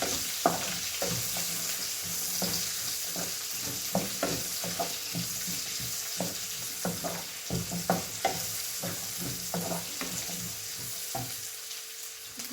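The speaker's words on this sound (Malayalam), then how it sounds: "ഒന്ന് ഇളക്കി കൊടുക്കാം." Sliced onions frying in a pan for chilli beef, stirred with repeated scraping strokes over a constant sizzle, close and fairly loud with an uneven rhythm.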